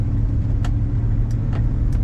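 A 1970 Cadillac DeVille two-door convertible idles with a smooth, steady low rumble, close by, with a few faint clicks over the even engine note.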